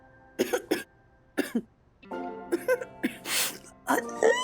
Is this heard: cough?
yes